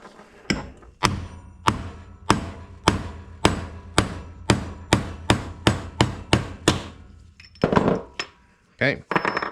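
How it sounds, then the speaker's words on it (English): Sharp hammer blows strike a Vespa P200 shaft braced between two wood pieces, about fifteen evenly spaced knocks ringing close and loud, followed by a few quicker, looser taps. "get 2 pieces of wood like this, and you're going to try to tap the shaft out"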